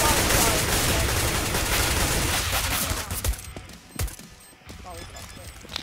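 Rapid gunfire in the video game CS:GO on the Dust II map: a dense, sustained fusillade that thins out into a few scattered sharp shots, with no speech over it.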